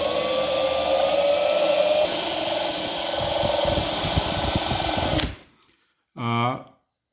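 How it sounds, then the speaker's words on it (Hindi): A power drill boring a hole in a drinking glass whines loudly and steadily for several seconds, then cuts off abruptly; a short voice follows after a moment of silence. "अब मैं एक और गिलास ले रहा हूँ, मैं इसके अंदर ड्रिल करूँगा बहुत ही कंट्रोल करके।"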